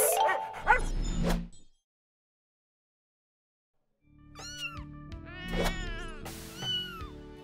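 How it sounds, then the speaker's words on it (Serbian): Several cat meows with bright rising and falling tones, a short burst at the start, then silence, then a longer run of overlapping meows, close and fairly loud, with no talk. "Mačka."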